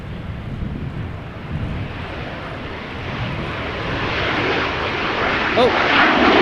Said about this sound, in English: 6894, there it is. 737-800, 7-year-old airplane.